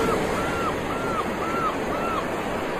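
Steady sea waves and surf wash continuously through a Tamil film song recording, a broad, even roar with faint high warbling tones drifting over it.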